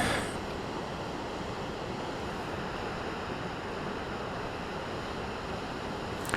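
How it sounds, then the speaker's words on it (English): Large volume of muddy water rushing down the Muskingum River at Stockport, a steady, dense roar of broadband rushing noise that stays constant throughout, close and loud, with no talking. "That is a ton of water coming off of there."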